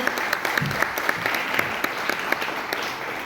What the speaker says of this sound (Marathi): आपण सर्वांनी एकदा टाळ्या वाजवून त्यांचं स्वागत करावे